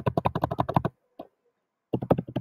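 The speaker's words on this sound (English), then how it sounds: "Typing upside down." Typing on a computer keyboard, heard as a quick run of crisp keystrokes, a short pause with one faint tap, then another burst of clicks.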